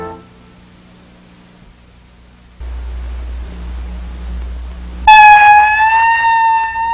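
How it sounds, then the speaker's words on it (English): After a quiet stretch and a low hiss, a loud siren suddenly wails in, its clear tone sliding and holding near the end. "The week begins with the cry of a siren."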